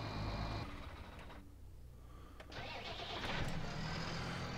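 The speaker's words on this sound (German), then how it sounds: "Ich muss eben Trecker ausmachen." A tractor engine in Farming Simulator 19 runs and shuts off, a mid-pitched mechanical rumble that drops away briefly before other game machinery noise continues steadily.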